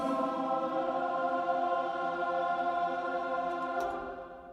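Sustained choral voices from a choir sample library for Native Instruments Kontakt, recorded in several countries. A soft, layered chord is held steady, then fades slightly near the end, with no spoken words.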